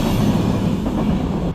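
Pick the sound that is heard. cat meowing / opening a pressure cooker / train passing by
train passing by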